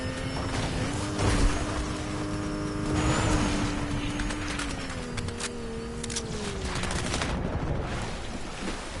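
Sniper rifle fire in the video game Fortnite, sharp shots cracking over dense continuous game noise and a tonal background hum, with no talk.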